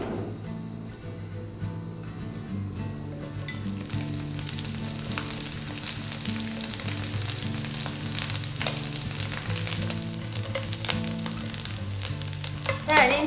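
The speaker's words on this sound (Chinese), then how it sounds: "然后倒入一点植物油，我们先把它煎到金黄酥脆" Wheat gluten sausage pan-fries in vegetable oil, giving a continuous crackling sizzle with sharp pops and occasional stirring scrapes, close and fairly loud with no speech.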